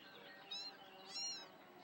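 Miss Cat, a cat stalking birds in the Amanda the Adventurer 2 game, gives two soft, faint meows about half a second apart over a quiet background hiss.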